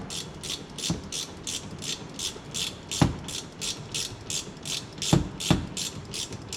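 A ratcheting wrench clicks in fast, even bursts while turning a bolt on the brakes of a 2015 Dodge Dart, close and clear, with a few heavier knocks between the ratchet strokes.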